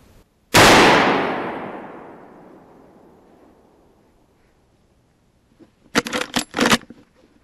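A single loud rifle shot fired at a buck during Pennsylvania rifle season rings out sharply and decays over several seconds outdoors, followed later by a brief cluster of rustling or crackling noises.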